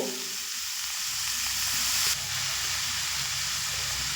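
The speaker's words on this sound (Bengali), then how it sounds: "এবার আমি যে বাঁধাকপি আগে থেকে কেটে ধুয়ে রেখেছি সেই বাঁধাকপি দিয়ে দেব" Pre-cut, washed cabbage sizzles loudly in a pan of fried sesame spice paste, a dense continuous frying hiss that briefly swells as the cabbage goes in, with no talking.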